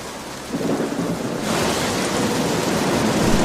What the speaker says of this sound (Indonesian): Lalu tak lama kemudian hujan angin turun dan memporak-porandakan tenda milik mereka.